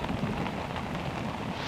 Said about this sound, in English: we're hit by a heavy tropical rainstorm